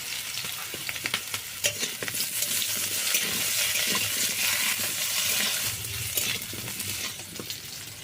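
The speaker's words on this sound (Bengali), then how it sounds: "আলুগুলো এখন ভালো করে ভেজে নেব।" Small diced potato pieces fry in oil in a wok for a Bengali village-style snail curry, a steady close sizzle with scraping stirs and clatter throughout, no talking.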